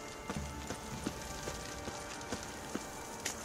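Horse hooves clip-clopping in The Witcher III, a steady run of faint, evenly spaced hoof strikes over a continuous background ambience, with no talk.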